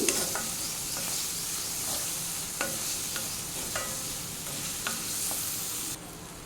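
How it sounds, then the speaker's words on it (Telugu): Finely chopped onion fries in a pan, a close continuous sizzle punctuated by repeated scraping stir strokes, the hiss dropping slightly at the very end. "ఈ ఉల్లిపాయని బాగా ఎర్రగా వేయించుకోవాలి"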